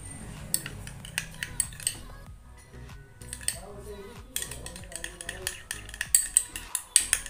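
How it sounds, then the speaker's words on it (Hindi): Spoon stirring turmeric into a gel in a small bowl, light clinking and scraping taps recurring irregularly, close up with faint talk in the background. "देखो इटा के भल भाबे पूरा मिसेई जेनता कि हल्दी आउ ई जेलटा मिक्स हो जिबा।"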